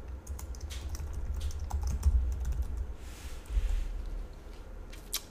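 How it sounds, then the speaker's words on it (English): Keys on a computer keyboard are typed in quick, irregular bursts of close, crisp clicks while names are entered into code, with a low steady hum underneath throughout. "I'm going to start typing in the names of superheroes"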